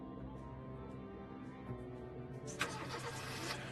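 A car engine in the video game Lucius cranking and catching, a low steady mechanical hum that rises into a brighter, louder running roar partway through.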